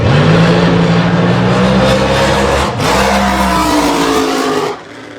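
A Corvette funny car called Bad Intentions roars past at Texas Motorplex, loud and close, its engine note climbing and then dropping as it moves off before cutting out near the end.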